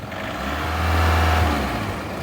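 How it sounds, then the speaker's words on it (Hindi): A Volkswagen TDI diesel car engine revs up to a low, swelling roar, holds, then eases back toward idle, heard close and loud. "और अगर मैं रेव भी करता हूँ तब भी इंजन में कोई आवाज़ नहीं है"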